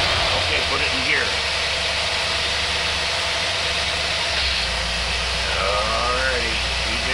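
An engine fitted with a Carter AFB carburetor revs freely out of gear, giving a loud, steady mid-pitched roar with a constant rumble throughout.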